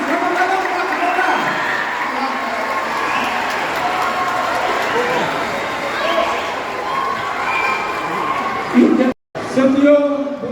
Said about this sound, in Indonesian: Sekali lagi, berikan aplaus, tepuk tangan.